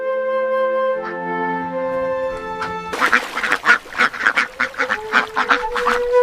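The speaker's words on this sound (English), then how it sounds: "Ducks seek safety where warmth resides." A flock of ducks quacking loudly and close in a rapid, overlapping series of calls, following a sustained tonal musical passage.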